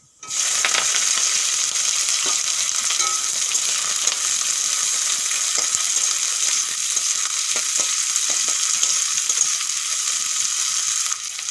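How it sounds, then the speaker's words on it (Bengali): Chopped onion drops into hot oil with a few mustard seeds in a pan, bursting into a loud, steady sizzle that holds for the whole stretch, with faint scattered clicks of stirring. "এখন দিয়ে দেব কেটে রাখা পেঁয়াজ"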